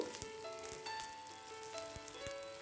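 Spinach and mixed vegetables frying in a pan with turmeric, coriander and cumin powder, a steady close sizzle with soft scraping strokes of a spoon stirring through.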